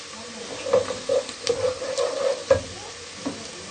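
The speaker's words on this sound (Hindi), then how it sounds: "प्याज को हम ब्राउन करेंगे।" Onions browning in a pan for a mixed vegetable sabzi give a soft, steady sizzle with scattered stirring scrapes, fairly quiet and close, with a brief voice murmur in the background.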